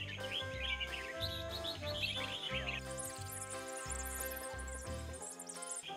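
Birds at a Thai bird singing contest chirp and twitter in rapid high bursts, layered over a loud, steady background of droning music and crowd noise.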